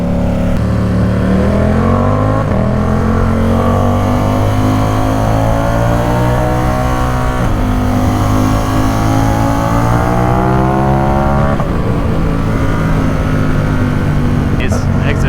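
Ducati Supersport 950 S motorcycle engine riding through downtown streets, loud and close throughout, rising and falling through gear changes with steady revving, long pulls and brief throttle dips, heard alone without talk.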